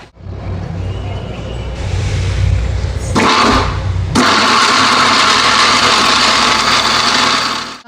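A mixer grinder blends coconut pieces with water for a vegetable pallav, whirring loudly and steadily, briefly stopping and then restarting at full power with a harsh, high motor whine.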